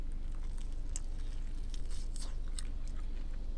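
Someone bites and chews a crunchy pepper-flavored snack close up, with steady crunching throughout and a few sharper crackles, no talking.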